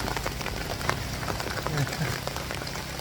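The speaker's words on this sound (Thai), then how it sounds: "ฝนมาแล้วหนักด้วย" Heavy rain pours down during a roadside stop on a motorbike trip, a dense, steady hiss of drops pattering on surfaces all around, with a voice heard faintly underneath.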